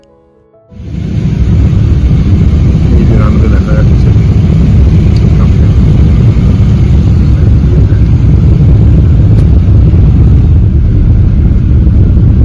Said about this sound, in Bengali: দারুণ ল্যান্ডিং করলো, কোনো ইয়েই নেই দেখো